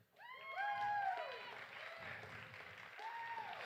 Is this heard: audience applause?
yes